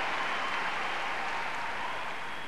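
Dense, steady applause from a stadium crowd of about 13,000 greeting figure skater Nancy Kerrigan at a 1992 world championship free program, a continuous wash of clapping heard at a distance with no talk over it.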